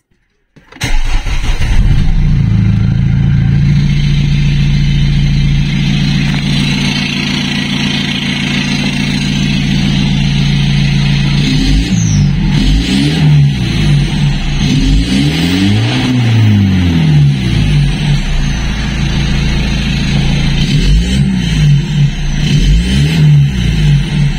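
A Renault Megane 3 engine with the catalytic converter removed and a downpipe fitted starts up, then idles loud and rough before being revved several times, rising and falling in pitch, close up with no talking.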